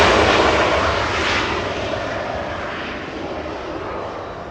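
A Finnair airliner at Los Angeles International Airport gives off a loud, broad jet engine roar that slowly eases over a few seconds, with no voices.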